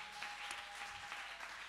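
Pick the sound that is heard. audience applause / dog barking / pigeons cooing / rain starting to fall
audience applause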